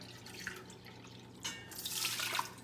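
Vinegar splashes and trickles into a container in short bursts, rising into a steadier pour toward the end, close by.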